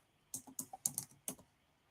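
A short run of about six quiet, crisp keystrokes on a computer keyboard, closely spaced and then stopping, with near silence around them.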